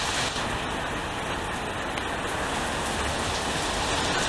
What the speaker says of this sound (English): this rain that just came out